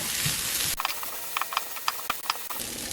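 Garlic hisses loudly as it hits hot oil in a pan, then a utensil clicks and scrapes in short, uneven strokes while stirring before the steady sizzle swells again.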